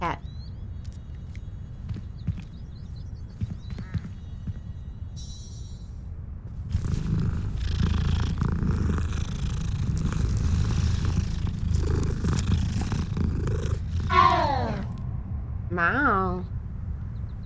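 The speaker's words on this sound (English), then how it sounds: "pet the cat, pet the cat" A cat purrs steadily while being petted in Hogwarts Legacy, a soft continuous rumble lasting throughout, with footsteps and game ambience around it and a couple of brief chirpy calls near the end.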